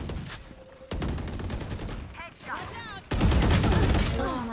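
Video game gunfire in bursts, sharp rapid shots and short machine-gun volleys with loud ringing cracks, mixed with brief game sound effects and some voices.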